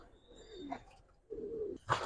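A pair of Punky Giribaz pigeons coos close by, giving one short, low, throaty coo followed by a brief rustling burst, all faint against a quiet background.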